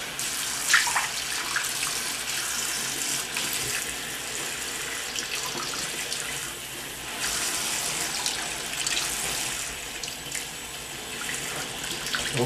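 Warm water running from a tap into a bucket, a steady hissing gush of flowing water that continues without a break for several seconds, fairly close, with no talk.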